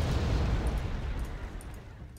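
Heavy rumbling blasts from mortars firing high-explosive rounds in Wargame Red Dragon roll through as a dense, low explosive roar that slowly fades, with faint higher crackles on top.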